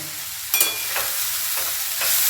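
Cauliflower filling for gobi paratha frying in a pan, a steady sizzle with a few soft scraping stirs, close and fairly loud with no voices.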